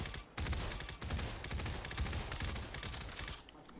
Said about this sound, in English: So after I pull the trigger, it goes up, I force it down on the target. That's how fast I'm shooting it.